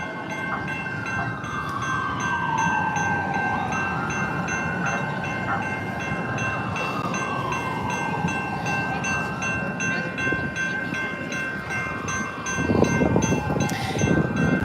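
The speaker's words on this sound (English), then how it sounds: "The train crossing." A San Diego trolley passes a street crossing: a steady high ringing tone runs throughout while a wheel squeal glides up and down over a continuous rail rumble that swells louder near the end. No voices.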